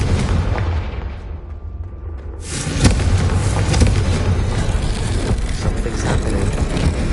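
Explosive spell blasts from Bombarda and Confringo in Hogwarts Legacy, a loud booming burst hitting after a brief lull, followed by a sustained rumbling roar with scattered cracks and impacts.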